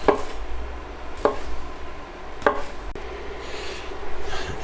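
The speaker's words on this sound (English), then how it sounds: "And just go ahead and chop it up." A knife chops grilled turkey sausage on a cutting board with three sharp, evenly spaced thuds, close and clear against a low background hum.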